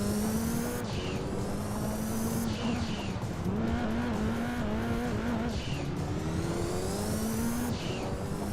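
A race car in Gran Turismo 2 slides through a corner with its tires skidding. A loud, continuous engine drone carries repeated squealing tire slides and no talking.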